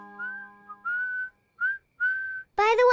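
A person whistles a short tune in a children's cartoon, with clear sustained notes broken by pauses, followed at the end by a brief burst of another voice.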